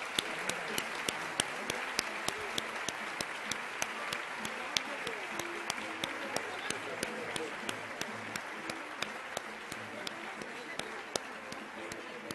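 Audience applause at an award ceremony for healthcare excellence prizes, steady sustained clapping from a room of people lasting throughout at a moderate distance.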